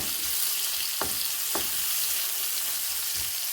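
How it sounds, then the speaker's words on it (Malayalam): Cut banana pieces frying in ghee in a pan, a steady dense sizzle throughout with a few soft scraping stirs from a spoon, close and continuous. "നെയ്യിലേക്ക് മുറിച്ച് വെച്ച് പഴം ഇട്ട് കൊടുക്കണം ഇളക്കി കൊടുക്കട്ടെ"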